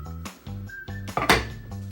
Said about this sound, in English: Now just cover it with a lid and wait for 3 minutes until it will be ready.